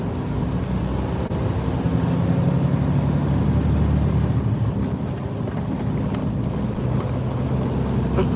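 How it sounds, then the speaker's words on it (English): Heavy road traffic at night, a steady, loud broadband rumble of passing vehicles and wind-like roar that fills the whole stretch without a break. "It's nighttime right now, and the traffic is really heavy."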